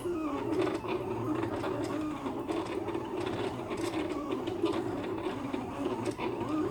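A vinyl cutting machine feeds its cutting mat in and out while making a monogram cut, giving a steady close mechanical whir with faint ratcheting, gear-like ticks throughout.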